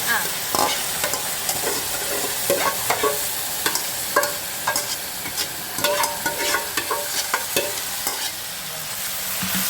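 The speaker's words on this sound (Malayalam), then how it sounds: "ഒന്ന് ഇളക്കി കൊടുക്കാം. നല്ലോണം മാടിക്കോട്ടെ മാങ്ങാൽ." Mango pickle mixture seasoned with salt and turmeric being stirred in a pan, with repeated scraping and clacking strokes of a spoon against the pan over a steady low sizzle.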